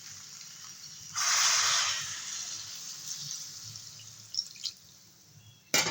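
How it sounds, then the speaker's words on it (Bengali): Water poured into a cooking pan of sautéed potato, okra and snake gourd with poppy-seed paste, a loud rushing hiss lasting about a second before fading into a lower simmering wash, followed by a few small clatters. "কষানো হয়ে গেছে জল দিয়ে দেবো"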